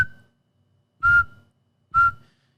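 A person whistles three short, sharp, steady notes in imitation of a beeping tone, spaced about a second apart, close and clear against silence.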